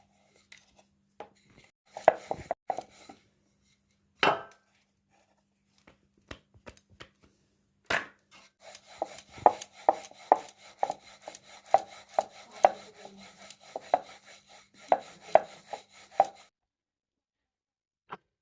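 Beetroot paratha dough rolled out with a rolling pin on a board: soft, rhythmic knocks and rolling strokes, sparse at first, then a steady run of repeated passes, close and moderately loud with no talk.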